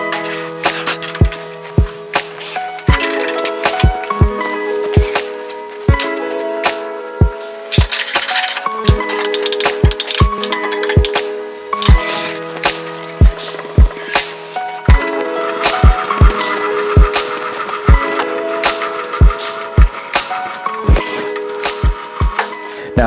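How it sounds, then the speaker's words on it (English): Manual milling machine cutting metal stock, sizing it down to 7/8, gives a loud repeating run of sharp metallic clinks and ringing tones that recur steadily through the cut, with no talking. "So I'm just going to put this whole thing in the mill. We're going to size this down to 7/8"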